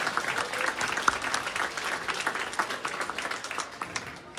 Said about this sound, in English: Let's give Mr. Poe a big round of applause